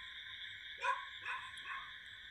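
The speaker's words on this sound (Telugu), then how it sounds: "కుక్కలు ఏడుస్తున్నాయి, మొత్తుకుంటున్నాయి." Dogs howling and crying at night, heard faintly from a distance as about three short, wavering, high cries over quiet background noise.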